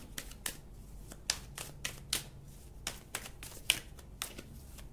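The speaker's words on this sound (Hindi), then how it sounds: "ये कार्ड्स इतना ज्यादा गिरते हैं, शफल नहीं हो पाता है।" Tarot cards are shuffled by hand, a series of crisp riffling snaps and flicks at an uneven rhythm, close and fairly quiet, with no talking.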